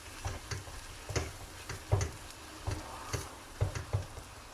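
A spoon stirs herbs into simmering onions in a pot for French onion soup, giving soft, irregular scrapes and taps against the pan over a faint sizzle, with no talking.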